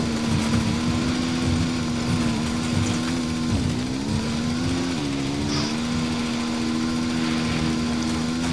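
A motorcycle engine in the video game Ghost Recon Wildlands drones at a steady pitch throughout, with two brief dips like gear shifts, loud and continuous over a noisy background.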